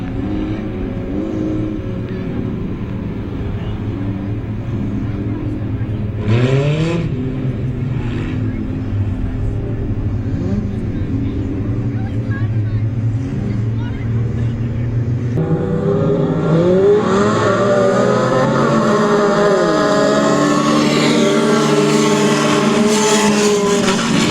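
Race cars at Trail-Way Speedway roar steadily as a pack, with engines swelling and revving louder toward the end, a continuous dense motor rumble with no talk.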